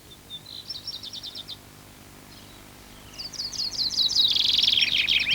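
Birds feeding on nectar at Agave parrasana flowers give short bursts of high, rapid chirping trills, a brief phrase, a pause, then a louder, longer run of twittering close by.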